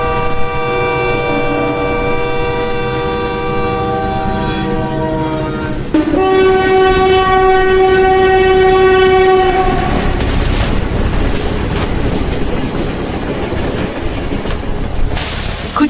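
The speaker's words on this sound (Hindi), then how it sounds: "ये सारी ट्रेनें। और हमारी भी अभी आने वाली है।" Train passing through a railway station, loud and close, with a sustained horn blast and continuous rumbling wheel and carriage noise that carries on after the horn stops.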